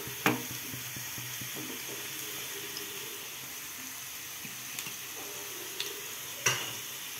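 Fish biryani ingredients frying in a pan make a soft, low sizzle, broken by a few sharp clinks of a utensil against the pan; no one speaks.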